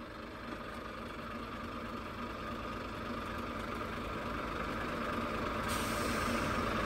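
A truck engine idles with slightly raised revs during reversing practice, a steady low diesel rumble that grows a little louder toward the end, with no talk.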